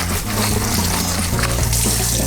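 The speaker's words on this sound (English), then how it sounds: "So you just want to cool them down, but you want to rinse a lot of that starch off." Cold tap water running into a sink over cooked noodles, a loud, steady close rush and splash of water throughout, with no talking.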